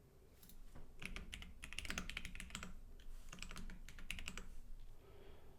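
Email address being typed on a computer keyboard, a quiet, steady run of close key clicks in quick bursts with brief pauses, no talking.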